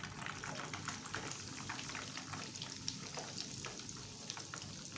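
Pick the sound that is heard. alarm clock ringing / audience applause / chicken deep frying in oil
chicken deep frying in oil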